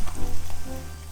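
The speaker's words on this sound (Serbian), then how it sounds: "On ne treba mnogo dugo da se prži." Eggplant slices sizzle steadily in hot oil, a loud, close, continuous crackling frying sound with no voices.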